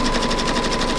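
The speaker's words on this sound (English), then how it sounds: "So I put my machine on zigzag, tightened up the stitch a little, and now I'm going down the side." A sewing machine running a tightened zigzag stitch down the side of fabric, a fast, even mechanical chatter of rapid needle strokes, close and steady, with no talk.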